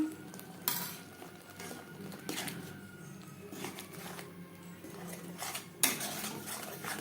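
Spices, ginger paste and green chili paste being stirred into a fish curry in a pan: a spoon scrapes and clinks against the metal at irregular intervals over a soft sizzle, close by, with no speech.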